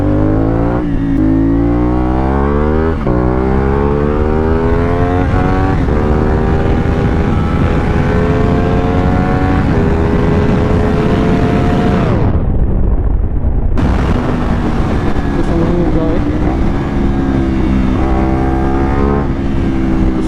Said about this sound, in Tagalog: Kusog ko din yung CF Moto SR no.